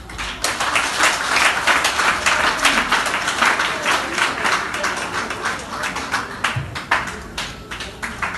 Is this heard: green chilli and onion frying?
no